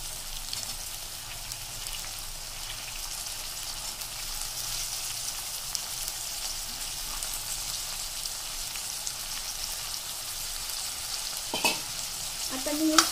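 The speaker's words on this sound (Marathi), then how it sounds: "आता त्याच्यामध्ये मी वाटाणे ॲड करणार आहे। ते पण छान प्रकारे तळून घ्यायचे।" Green peas fry in oil for veg biryani, a soft even sizzle and crackle like light rain that runs steadily, with a couple of louder clinks near the end.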